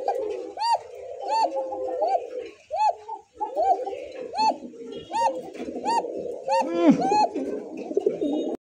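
Art Angel and Koka pigeons coo close by in a repeated series of rounded, rising-falling calls, with faint murmuring and background noise between them.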